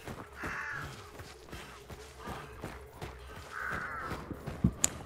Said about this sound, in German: So, die Raben fliegen.